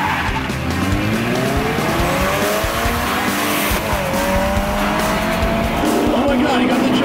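A DeLorean and a Camry minivan drag race, engines roaring as tires squeal and skid loudly, with pitch sweeping up through several gear pulls and excited voices talking over the racket.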